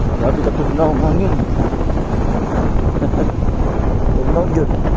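Cold wind buffets the microphone on a rural road, a loud continuous low rumble with gusty roughness throughout, and a voice talking over it at times.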